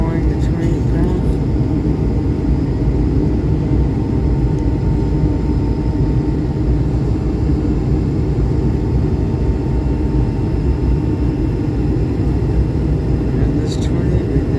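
Delta Airbus A220 airliner during takeoff, a loud, constant low engine roar and cabin rumble heard from inside for the whole stretch, with a faint voice murmuring underneath.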